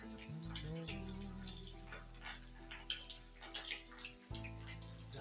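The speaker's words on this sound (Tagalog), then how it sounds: "Ayan, prito tayo guys." Dried salted fish fries in hot oil, a faint continuous sizzle with scattered pops and spatters, under low background hum and no talk.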